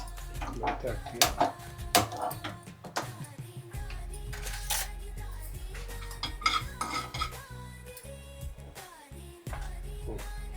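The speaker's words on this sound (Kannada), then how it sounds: "ಸಾಸಿವೆ ಹುರ್ಕೊಂತೀನಿ" Mustard seeds roasting in a pan for mango pickle, with a utensil clinking and scraping against the metal in uneven bursts while people talk over it.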